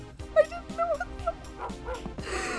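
A dog in the video game Rise of the Triad 2 gives a short run of yips and whimpering barks, a few quick bursts over game music, with a brighter burst at the end.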